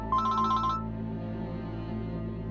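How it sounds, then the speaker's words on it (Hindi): Phone ringtone, a bright electronic trill that plays one short burst near the start and then stops, leaving a low steady hum of drama background music. "शेल्टर होम वालों का फिर फोन आ रहा है।"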